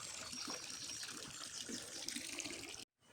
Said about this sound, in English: we've got a pump running to circulate the water